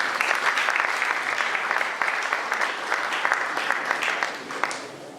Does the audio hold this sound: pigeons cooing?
no